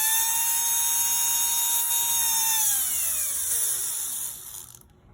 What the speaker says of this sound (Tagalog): This motor, guys, is very strong.